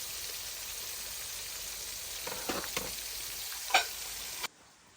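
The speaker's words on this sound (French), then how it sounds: "les faire revenir dans la farine et les faire frire" Sardines Moroccan style, filleted, stuffed with chermoula and dredged in flour, frying in a pan; a steady sizzle runs throughout, with a few brief stirring clatters and scrapes, close and moderately loud, then cutting off abruptly near the end.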